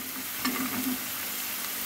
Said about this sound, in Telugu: ఉల్లిపాయలు, పచ్చిమిరకాయలు వేగినాయి కదా